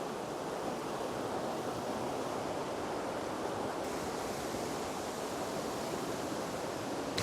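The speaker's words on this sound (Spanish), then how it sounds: "cae todo el agua con una fuerza tremenda y bueno, salpica" A powerful waterfall pours down in Peru's Cordillera Blanca, throwing off heavy spray: a steady, loud, unbroken roar of rushing water with no pauses.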